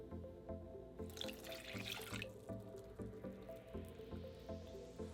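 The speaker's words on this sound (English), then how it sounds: "Let's add all of the ingredients into this pot." Water and sugar pour into a pot as syrup ingredients for rice cake balls, a steady close trickle and splash running throughout with a brief brighter rush of pouring near the start.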